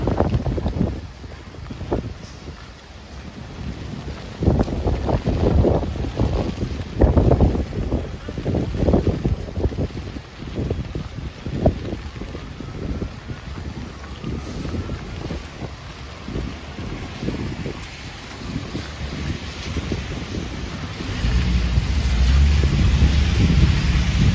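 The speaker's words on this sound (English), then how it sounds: "Oh, look at this wind now." Strong gusting wind buffeting a microphone during a flash flooding rainstorm in New York City, rough low rumbling bursts that swell and ease throughout, loud and close with no talk.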